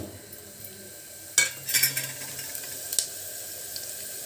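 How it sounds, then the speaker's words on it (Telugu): Coriander seeds, fenugreek, cumin and mustard seeds dropped into hot oil for an Andhra chilli curry: a few quiet clicks, then a sudden sizzling burst that crackles in bursts before settling into a softer hiss. "ఆయిల్ కాగింది ఇదో ఇవి వేస్తానండి ధనియాలు మెంతులు జీలకర్ర ఆవాలు"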